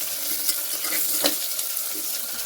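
Finely chopped onion stir-fried in a pan with oil and bay leaf, a continuous bright sizzle and crackle with a few soft scraping stirs, close and steady, no talking.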